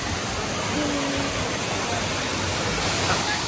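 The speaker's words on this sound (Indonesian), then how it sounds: "Tinggi air terjun ini sekitar 40 meter dengan air yang tidak pernah surut sepanjang tahun." Curug Sumuran, a 40-metre waterfall fed by spring water on the slopes of Mount Telomoyo, roars as a steady, loud, broadband rush that fills the whole stretch without letup.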